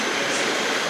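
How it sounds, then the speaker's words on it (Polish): An Intercity Matejko train on the Szczecin to Przemyśl service rolls past at Kraków Główny station, a loud, steady broadband rumble of railcars filling the whole moment. "Ta też Matejko."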